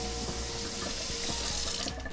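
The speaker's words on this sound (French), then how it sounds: "j'ai des pédales pour l'eau chaude, l'eau froide" Water rushing from a pedal-operated kitchen faucet into the sink of a tiny house, a loud, close and continuous splashing stream with no voices.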